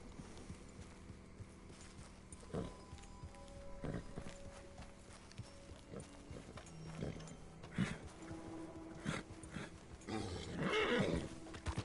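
In Red Dead Redemption 2, a horse agitated by a nearby alligator whinnies and snorts amid clip-clopping hooves and shuffling, with scattered sharp sounds and a louder burst of activity near the end, heard quietly.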